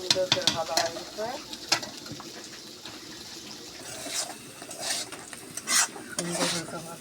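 Bitter gourd frying in a pan at home, with a steady soft sizzle under repeated scraping and clinking strokes of a spoon being stirred through it, close and fairly quiet throughout.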